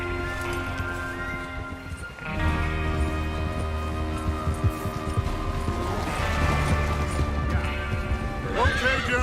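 Steady hoofbeats of horses galloping in Red Dead Redemption 2, with a horse whinnying over a sustained musical score and game ambience as riders head out to rob a train; no clear talk.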